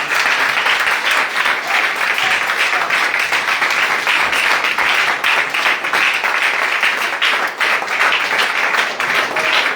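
A crusade congregation applauds loudly and continuously, dense clapping from a large crowd filling the space throughout, with only faint voices mixed in.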